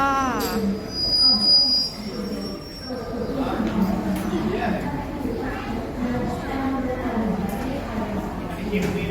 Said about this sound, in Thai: ตอนนี้นะคะรถไฟมาจอดแล้ว